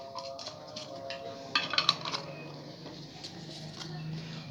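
Jars of turnip pickles are covered, giving a cluster of sharp clinks and taps of lids and containers in the middle of the clip over a quiet kitchen background.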